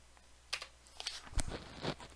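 Ctrl and semicolon keys pressed on a computer keyboard in an Excel spreadsheet, a few quiet, close clicks with no talk.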